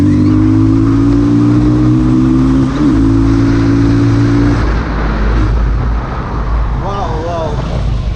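A Benelli Leoncino 250 motorcycle engine hums loudly while riding, holding steady tones with a quick shift midway, then gives way to wind rush and a speaking voice near the end.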